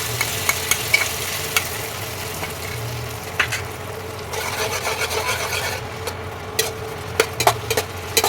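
Spice paste premixed with water goes into a pan of softened boiled tomatoes and fries, with gentle sizzling under repeated scraping and stirring strokes of a spoon against the pan.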